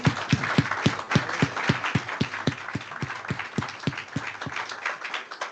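An audience at a conference applauds a speaker, with dense, steady clapping that starts strong and carries on evenly for several seconds with no talk over it.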